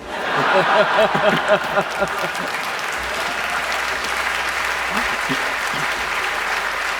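Audience at a science conversation event claps and laughs together, with loud bursts of chuckling over the applause early on, then steady clapping that carries on to the end.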